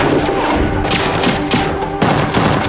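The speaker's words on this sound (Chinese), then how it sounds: "众人连忙一边开枪射击，一边快速地寻找掩体躲避" Gunfire from a movie shootout as police reinforcements arrive: dense bursts of shots and thuds crackle loudly and close across the whole stretch, with heavier volleys arriving in clusters and no talk.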